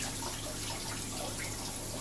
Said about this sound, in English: fill the bowl up with some fresh cool water